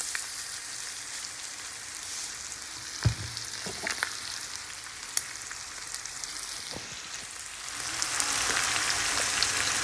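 Chinese fried rice seasoned with salt, thyme and curry is stirred and tossed in a hot pan, giving a steady close sizzle with scattered utensil scrapes and clinks, alone without voices.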